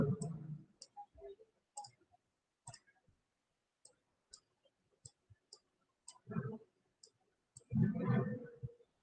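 Sharp, quiet computer mouse clicks come in an irregular series while zooming in Photoshop, with a few soft thumps and rustles of the desk in between, in a quiet room.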